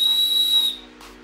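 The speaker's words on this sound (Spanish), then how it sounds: "aquí os traigo la prueba para que veáis que realmente es un silbato" A loud, shrill whistle from a seahorse-shaped Tomorrowland 2018 festival whistle blows steadily, then cuts off, followed by a brief faint breathy sound; no one speaks.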